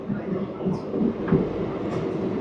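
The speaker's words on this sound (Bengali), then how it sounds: "আর আমাদের হলদিয়া আসানসোল এক্সপ্রেস এখন ছুটে চলেছে খড়গপুরের উদ্দেশ্যে।" Haldia-Asansol Superfast Express 22329 runs on its way toward Kharagpur with a steady, loud rumble of wheels and carriages, faint clatter and a brief squeal, heard continuously from on board or nearby.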